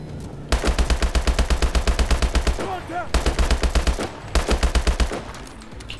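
Automatic weapon fire from Call of Duty: Advanced Warfare, in the Bio Lab campaign mission, comes in long, rapid, evenly spaced bursts, loud and close, broken by brief pauses between strings of shots.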